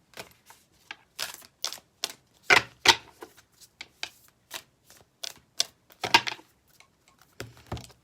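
Work Your Light Oracle cards are shuffled by hand in a quiet room, a run of crisp, close riffling and slapping bursts in an uneven rhythm.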